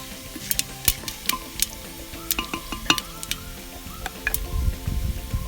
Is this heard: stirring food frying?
yes